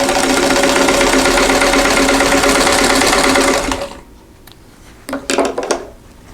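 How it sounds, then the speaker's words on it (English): A vintage sewing machine stitching a Kansas Star quilt block, a loud, fast, steady mechanical whir and rattle for several seconds, then stopping, followed by faint handling clicks and a short burst of movement. "And I am still using my vintage machine."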